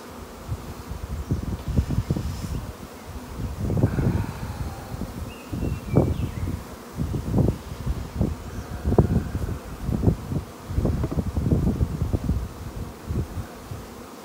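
A low, steady buzz of a swarm of honey bees flying close by, with rustling and gusts of wind noise swelling and fading across the whole stretch.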